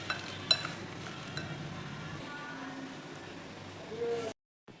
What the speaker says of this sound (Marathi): सर्व व्यवस्थित मिक्स करून घेऊ आता आपण